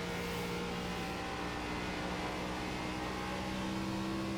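A steady, droning ARCA stock car engine in the iRacing video game hums continuously at moderate loudness, with a constant tonal whine and no voices.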